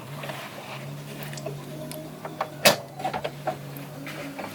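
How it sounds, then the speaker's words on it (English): A sewing machine stitches boxing fabric onto the top plate of a boat cushion, its steady mechanical hum running for several seconds, then stopping, followed by a few scattered clicks and taps. "you're gonna stop your sewing machine with the needle in and pivot and keep sewing along"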